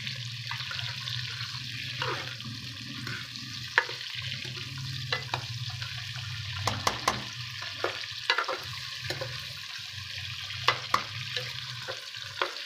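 Onion, tomato and green chilies fry in a pan for a green bean and potato curry, a steady close sizzle with scattered stirring clicks and scrapes throughout.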